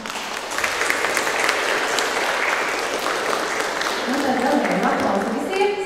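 Steady audience applause at a student organ class concert, broad and sustained, with some murmuring voices mixed into the clapping toward the end.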